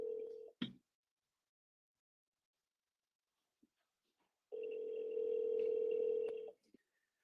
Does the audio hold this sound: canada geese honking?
no